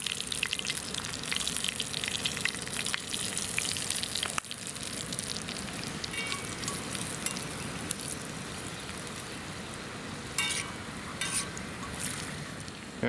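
Cicadas seasoned with lemon pepper fry in spitting hot oil, giving a steady, dense sizzle with brief crackling spurts throughout, close and continuous with no talking.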